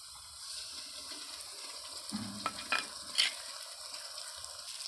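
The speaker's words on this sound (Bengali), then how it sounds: "পেঁয়াজটা হালকা লাল হয়ে ভাজা হয়ে গেছে, এবার লঙ্কা যে পেস্টটা বানিয়েছি সেটা আমি দিয়ে দেবো।" Chili paste goes into a pan of lightly browned frying onions, giving a steady soft sizzle with a few scraping stirs and a brief wet splat, heard close up with no talking.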